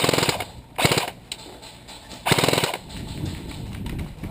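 A KWA G36C airsoft rifle shooting BBs during a village-style airsoft game rattles off two short full-auto bursts, then a longer one, sharp and close against outdoor background noise.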